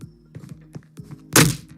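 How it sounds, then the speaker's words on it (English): One hard punch lands as a sharp, loud smack, following a few soft taps and thumps. "Allow me to wake up Gareth with a good punch"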